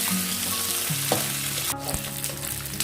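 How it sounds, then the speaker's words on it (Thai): Pork innards deep-fry in hot oil until crispy, giving a steady close sizzle with occasional stirring clinks and no voices. "เดี๋ยวต้องทอดทอดข้างในให้กรอบก่อนนะคะ"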